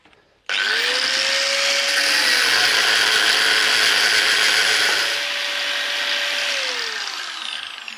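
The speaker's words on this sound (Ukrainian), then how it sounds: "Це я трошки неправильно роблю, що без захисту болгарка" An angle grinder run without its guard saws through metal on old sewing machine parts, a loud continuous whining grind that starts abruptly, holds a high steady pitch, then eases slightly as the cut finishes, with no talk.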